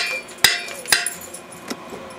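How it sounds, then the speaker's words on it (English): A garden hoe's metal head is tapped down onto its wooden handle in two sharp, distinct knocks close together, followed by a softer third tap, with quiet rustling between and no voices. "give it a couple good taps"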